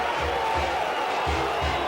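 A sellout stadium crowd roars at Notre Dame Stadium as the top-ranked Florida State Seminoles are greeted, a dense, continuous wash of cheering with faint low thumps beneath and a voice talking over it.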